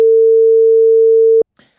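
A telephone busy tone on an unanswered call: one steady, clear tone holds for about a second and a half, then cuts off abruptly and leaves faint soft noise.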